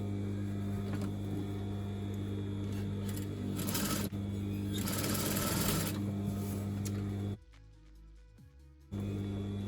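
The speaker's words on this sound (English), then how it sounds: "I like to come from the bottom and stitch up to the pocket." A sewing machine stitches a circle skirt seam with a steady, close mechanical hum, stopping briefly for a second or so near the end before starting up again.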